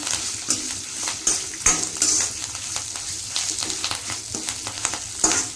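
Dry red chilies, curry leaves and coriander seeds frying in a pan for vangi bath powder, a steady sizzle with stirring scrapes and light clinks of a spoon against the pan, close and continuous with no talk.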